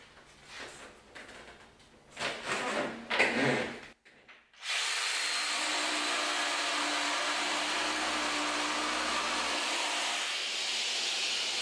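A Festool PSB 420 EBQ pendulum jigsaw cuts through laminate: a few short bursts and handling noise, a brief pause, then a loud, steady high-speed cutting whine that runs unbroken to the end.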